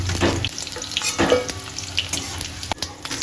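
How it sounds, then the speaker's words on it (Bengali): Vegetables frying in hot oil for sukto, a close steady sizzle broken by stirring and scraping in the pan. "ওই তেলে আমরা সমস্ত সবজিগুলোকে এক এক করে ভেজে নিব।"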